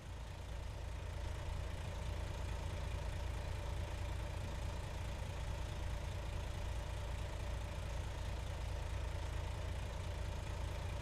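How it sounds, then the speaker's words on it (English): A Volvo VNL truck engine in American Truck Simulator idles with a deep, steady rumble, loud and close, with an even low drone and no pauses. "This truck sounds so good, though."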